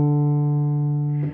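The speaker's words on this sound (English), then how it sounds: "D sounds like this." A sustained reference pitch D plays as a steady electronic tone with rich harmonics for about a second, then cuts off, alone for an ear-training harmonic dictation exercise.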